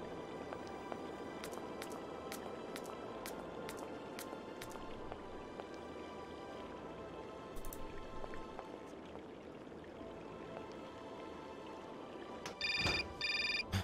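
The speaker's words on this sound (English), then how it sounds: "Another phone call." A telephone rings in the video game Syberia: a short electronic ringtone burst near the end, following a long stretch of faint ambient game sound with light periodic ticking.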